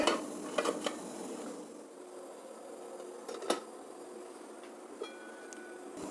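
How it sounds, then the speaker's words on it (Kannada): Water bubbles and hisses steadily in an idli steamer pot, with a few sharp metallic clinks of dishes scattered throughout. "ಇಡ್ಲಿ ಪಾತ್ರೆಯಲ್ಲಿ ನೀರು ಕುದೀತಾ ಇದೆ"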